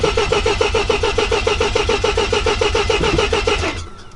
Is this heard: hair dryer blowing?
no